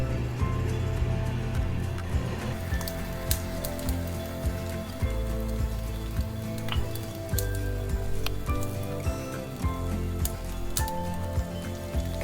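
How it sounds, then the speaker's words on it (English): A sous vide T-bone steak topped with a pat of butter sizzles in a pan, a constant crackling, spitting hiss that stays close and even throughout, with a steady tonal layer underneath and no speech. "You can really hear it sizzling in there."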